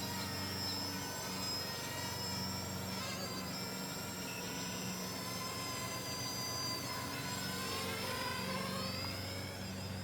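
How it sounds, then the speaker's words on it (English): A FreeX 3D hexacopter's rotors whine steadily as it spins at full speed, the pitch bending up and down as it turns back the other way, with a close, constant drone throughout. "Full speed spin and take it back the other way."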